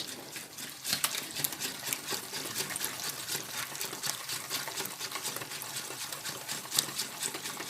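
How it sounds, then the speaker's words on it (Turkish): Eggs whisked by hand in a bowl for a homemade cake, a rapid, continuous clicking and sloshing rhythm close to the microphone with no talking. "Evet biraz yumurtaları çırpıyoruz kokusu çıksın diye."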